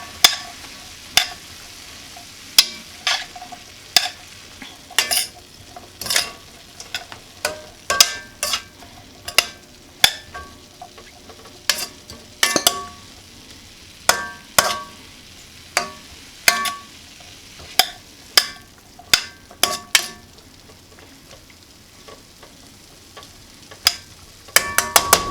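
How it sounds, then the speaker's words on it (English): Chicken and mushrooms frying in a pan for Asian lettuce wraps: a soft continuous sizzle beneath a series of sharp, irregular spatula clicks and scrapes against the pan as the mixture is stirred. "And lastly, our mushrooms. And we'll give that all a stir."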